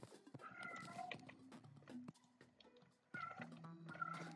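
A cat in the Terraria video game meows repeatedly in short, wavering, talk-like calls, a burst of several followed by a pause and another run, clear and fairly close.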